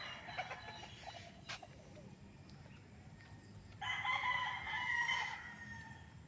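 A rooster crows on a farm in Nagcarlan, one long call rising clearly in the second half over quieter rural background noise, with faint earlier clucks.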